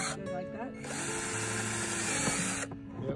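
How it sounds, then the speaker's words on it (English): A power drill drilling drainage holes whirs steadily for a few seconds, its high motor whine rising at the start and cutting off near the end, with background sounds around it. "showed me how to drill holes because I've never done it before"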